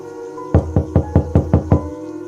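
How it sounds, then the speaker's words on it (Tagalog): Knocking on a door at a Halloween-themed setting: seven firm, evenly spaced knocks in a quick steady rhythm, close and loud, alone without speech. "minabutan niya ng kumatok sa pinto"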